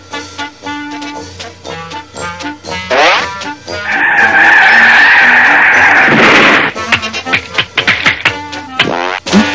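A cartoon car's tires screech in a long, loud braking skid in the middle, framed by bouncy animated sound effects and musical tones before and after.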